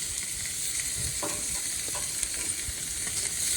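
Chicken, piri-piri and belly pork sizzle on a GrillStream gas grill, a constant bright hiss with a few faint clinks of tongs turning the meat.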